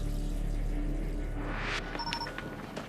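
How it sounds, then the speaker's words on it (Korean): Water runs in a Hong Kong apartment, a loud rushing flow that fades out, followed by a few small drip-like plinks. "그러던 어느 날 또다시 들려오는 물소리"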